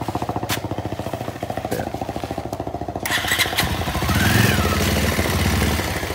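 A motorcycle being pushed and bump-started, a rapid chugging mechanical rhythm that catches and rises into a louder running engine roar partway through.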